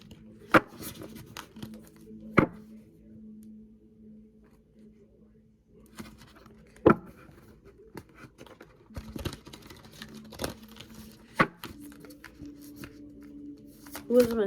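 Tarot cards being shuffled in a series of sharp, crisp riffles and taps at close range, spaced irregularly over a low steady hum, with no one talking.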